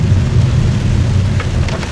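Heavy rain pours steadily along the road from Vang Vieng toward Luang Prabang, a dense, loud continuous hiss with a deep low rumble underneath and no voices.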